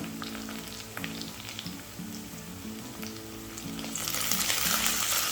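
Coriander and mint sautéing with browned onion for mushroom biryani, a continuous close sizzle that swells louder near the end, with soft background music and no talking.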